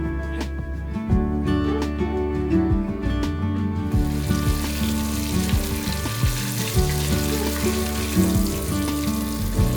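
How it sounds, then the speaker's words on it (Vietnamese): Steady crackling sizzle of battered chicken deep frying in hot oil, continuous and close, with some clinks and bumps of utensils. "Giờ mình sẽ lăn qua một lớp bột chiên giòn rồi đem chiên."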